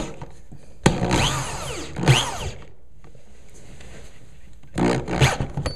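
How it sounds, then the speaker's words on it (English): A power drill drives a cabinet screw into a wooden cleat in two short whirring bursts, then after a pause a third burst. The drill sounds close and loud against a quiet room. "now I'm going to just drill the cabinet screw into the cleat"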